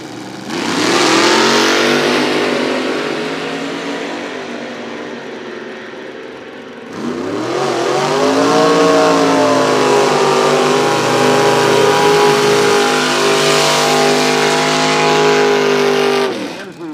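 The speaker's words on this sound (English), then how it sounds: "Smokey holding the brake. Yeah, he knows how to do it. 454 in that 52 Chevy Method" Drag racing at Toronto Motorsports Park: a 52 Chevy with a 454 engine revs loudly, climbing and holding, then drops briefly and roars back into a sustained high rev with harmonic engine tones.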